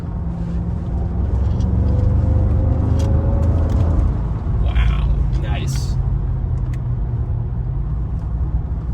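A 2003 Mercedes E55 AMG sedan pulling hard in third gear, its engine a deep, loud, rising drone heard from inside the cabin, with someone talking over it partway through.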